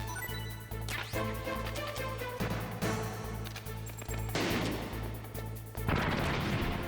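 Gunfire in the stealth video game Metal Gear Solid, a steady run of loud shots and impacts over a constant low game hum, with a heavier burst near the end.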